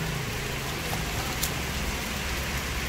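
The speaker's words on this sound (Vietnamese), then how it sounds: "Mà trời mưa quá trời luôn, đang mưa nè." Heavy rain pours down steadily outdoors in rural Ben Tre, Vietnam, a dense, unbroken hiss of drops that stays loud and even from start to finish.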